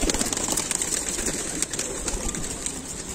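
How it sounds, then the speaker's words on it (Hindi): A pigeon caught and held in the hand for sale, soft coos and rustling under a constant broad noise, close and fairly loud, with no talking. "तो आपको दूसरा कबूतर पकड़ के दिखाता हूँ।"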